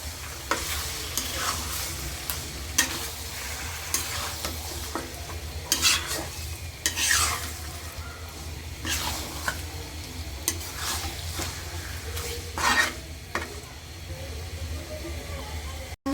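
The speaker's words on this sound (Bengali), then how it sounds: "এখন আমি মাংসগুলো দিয়ে দেব। ভালো করে আমি মশলার সাথে মিশিয়ে নেব।" Chicken pieces stirred into fried masala for chicken korma, a hissing sizzle punctuated by repeated spatula scrapes and clanks against the pan, close by.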